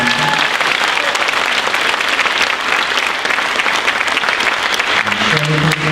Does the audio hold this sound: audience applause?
yes